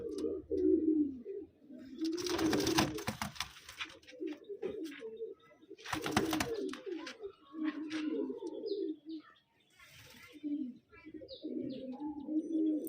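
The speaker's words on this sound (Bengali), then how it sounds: "এটা হচ্ছে নর পায়রা" A male pigeon kept as a pet coos in soft low repeated phrases nearby, interrupted by a couple of sharp noisy bursts of rustling.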